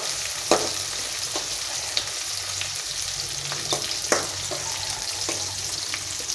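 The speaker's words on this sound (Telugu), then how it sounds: "కొంచెం గోల్డెన్ ఫ్రై అయ్యే వరకు ఫ్రై చేసుకోండి" Onion, curry leaves and mint frying in a pan, with a steady close sizzle and a few sharp clicks of a spatula stirring against the metal.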